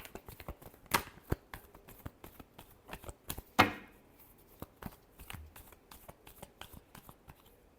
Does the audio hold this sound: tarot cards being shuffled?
yes